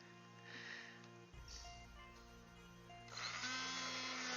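Homemade eggnog is whisked with a steady whirring, motor-like drone that shifts in pitch and grows louder toward the end, heard alone without talking.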